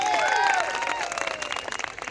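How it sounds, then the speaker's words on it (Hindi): Brief burst of audience applause for a poet at a Hindi kavi sammelan during a Sharad festival in Dholpur, dense clapping that thins toward the end under a lingering tonal ring. "मैं चाहूंगा आप अपने लाडले के सम्मान में एक बार जोरदार तालियां बजा दें।"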